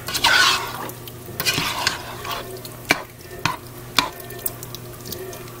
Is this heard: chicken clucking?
no